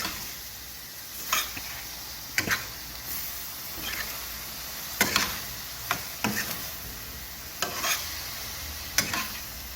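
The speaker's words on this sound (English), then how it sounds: "now we're just going to mix this together and give this a second to cook" Cheesesteak filling of beef and seasonings being stirred in a pan, a steady soft sizzle of cooking with intermittent scraping and clinking strokes from the spoon, close and alone.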